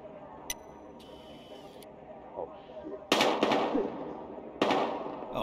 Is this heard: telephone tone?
no